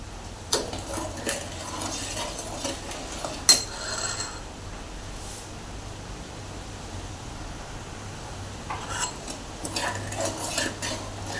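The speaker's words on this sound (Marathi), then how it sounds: "चहासारखं एकसारखं हलवत राहायचं आहे त्यामुळे चांगला कटला जातो" Masala chai spiced with nutmeg and cardamom stirred steadily in a pot, a quiet scraping and clinking of a spoon against metal coming in small bursts, near and soft with no talking.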